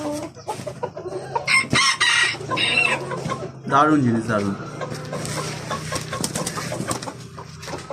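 Fancy chickens at a Kolkata farm cluck and crow intermittently at moderate distance, their calls mixed with someone talking over them throughout.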